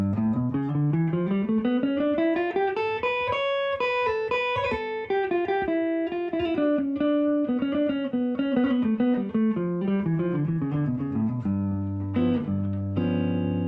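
A clean electric guitar plays a single-note Lydian dominant scale rooted on G up and then back down at a steady pace, ending on a few held notes.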